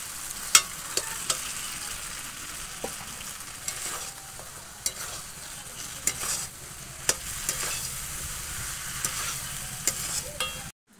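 Chicken is being stirred into fried masala in a pan for homemade biryani: a constant close sizzle broken by repeated scraping strokes and sharp clicks of a spoon against the metal, with no speech.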